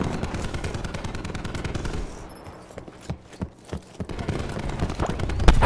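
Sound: gunfire in a video game battle

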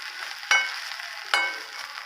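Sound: coconut being roasted in a pan for mustard chutney

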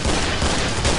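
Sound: gunfire in the video game Killing Floor

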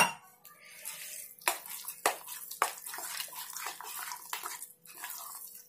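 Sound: pouring water into batter

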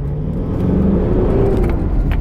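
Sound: Mitsubishi Pajero engine revving while accelerating

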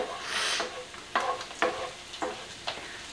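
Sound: angel hair konjac pasta cooking in a pan

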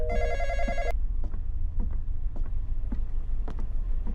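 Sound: phone ringing in video game

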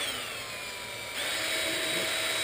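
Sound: drilling holes in plastic container

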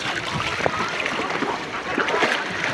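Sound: sea wave splashing

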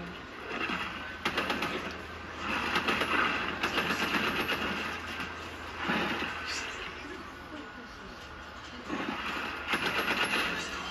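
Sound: gunfire in the video game Fortnite

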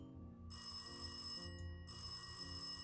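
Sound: telephone ringing in an escape room video game

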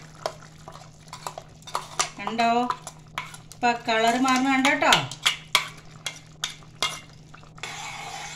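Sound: ground spice paste poured into pan and stirred

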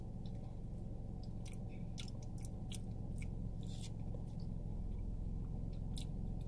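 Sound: chewing and tasting grits

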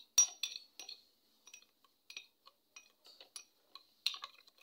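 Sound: spoon stirring sugar into mango juice

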